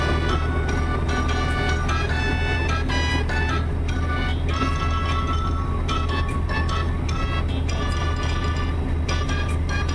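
A simulated truck engine brake in American Truck Simulator, on a rig hauling a 19-ton excavator, gives a steady droning engine tone with pulsing, buzzy harmonics, loud and continuous with no talk.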